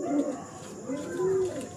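A silver fantail pigeon kept at home gives two soft, low cooing calls close by, each a short hum separated by a brief pause.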